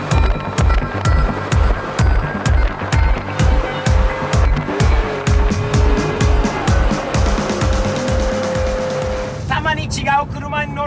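A Ferrari 599 V12 engine drones loudly with rhythmic pulsing from inside the cabin, pitch shifting as it accelerates, while a person talks over it.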